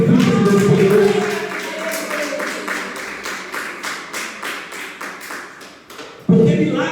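A church congregation applauding, rhythmic clapping at a steady beat that fades gradually under a preacher's voice, with the voice returning loud at the close.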